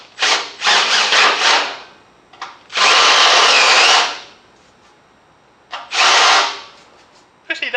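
A power drill with a countersink bit touches up a hole in metal, giving three close, loud whirring bursts of a few seconds each, separated by short pauses.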